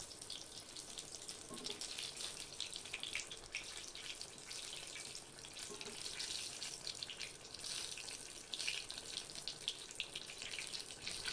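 Eggplant bajji, large brinjal slices dipped in gram flour batter, frying in hot oil with a steady, bright crackling sizzle that holds at an even level throughout, with no talking.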